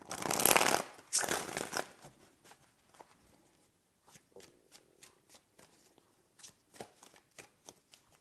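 Tarot cards are shuffled close by in two loud riffling bursts, followed by a run of softer, scattered taps and slides of the cards over a quiet background, with no talking.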